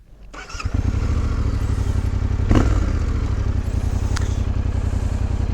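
Black and gold Yamaha Tenere 700 Broken Enduro edition motorcycle engine starting up and settling into a loud, steady, close idle with a burbling rumble.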